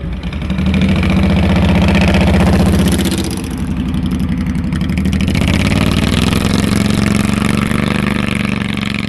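A Ridley CVT motorcycle, a classically styled bike with continuously variable transmission, runs close by with a loud, steady idle, dipping briefly before settling back into an even mid-pitched rumble with no voices over it.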